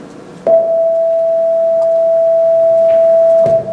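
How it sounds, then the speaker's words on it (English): A steady pure tone with an added 660 Hz (E) overtone holds at an even level for about three seconds, with faint background noise and brief clicks at start and end. "So we'll hear E660 here."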